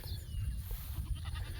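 An auction goat bleats faintly among other farm livestock, with soft, brief calls half-buried in low outdoor rumble and wind.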